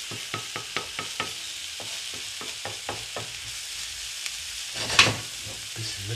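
Chopped vegetables for shakshuka fry in hot oil in a pan, a steady sizzle broken by repeated scraping stirs and utensil knocks against the pan, with one louder clatter near the end.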